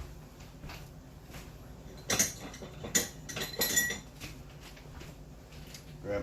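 A whisk scrapes and clicks against a pot while stirring a roux for crab and shrimp étouffée, in quiet, uneven bursts that are loudest in the middle of the stretch.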